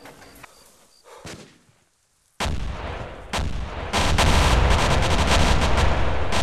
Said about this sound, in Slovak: Tam stále niečo vybuchuje.